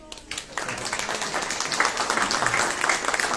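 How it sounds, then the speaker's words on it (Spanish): An audience at a book presentation bursts into applause, a brief quiet moment rising into steady, moderately loud clapping from many hands that continues to the end. "También un aplauso, por favor."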